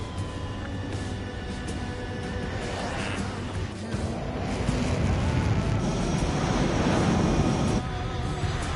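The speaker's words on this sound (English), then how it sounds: "All right, all aircraft, form up on Trigger, nice and tight" Military jets fly in formation in the Ace Combat 7 video game, a broad, continuous roaring rush that swells slightly in the second half, with faint game chatter underneath.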